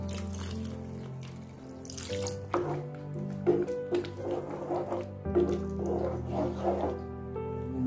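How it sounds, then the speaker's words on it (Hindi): Water being poured into a simmering phool makhana masala curry on a stovetop, a gentle splashing and bubbling with soft clinks, steady and fairly close with no talking. "मैं तो इसमें थोड़ा पानी मिला रहा हूँ।"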